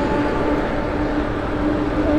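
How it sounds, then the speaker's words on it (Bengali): A train rolls slowly past near a bridge, a steady broadband rumble and rattle that stays level throughout, heard from nearby outdoors. "আস্তে আস্তে যাচ্ছে ট্রেন।"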